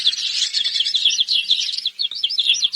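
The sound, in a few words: small bird chirping in Hindi cartoon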